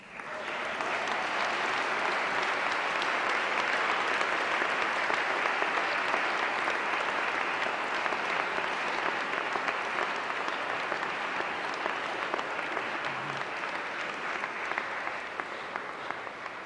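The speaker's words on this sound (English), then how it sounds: "Turn around 180 degrees and applaud and show your appreciation to your families." A large audience at a ceremony in Glasgow applauds steadily for a long stretch, a thick, even roar of many hands clapping together that holds at full strength with no voices on top.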